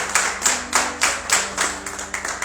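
A church congregation claps together in a steady rhythmic beat, about eight or nine even claps, close and fairly loud with no talk over it.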